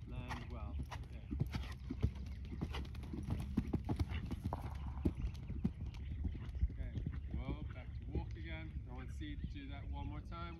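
A horse moves around an arena during a jumping lesson, with repeated clip-clop hoofbeats at a steady gait and occasional snorts, while an instructor talks over it.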